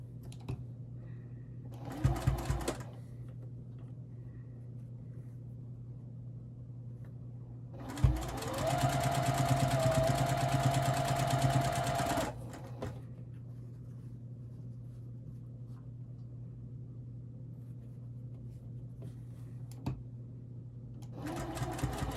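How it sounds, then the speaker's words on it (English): A sewing machine stitches a quarter-inch seam through quilt fabric for half-square triangle blocks, running in one steady, close burst of about four seconds between quiet stretches of fabric handling. "we're just going to sew down this seam with a 1/4 inch seam allowance"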